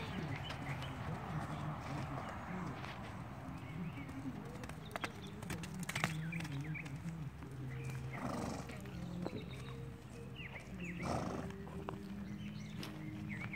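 Horse hooves thud and clip-clop softly as the horse prances across a grass pasture, faint and scattered against an outdoor background with occasional bird calls and snorting.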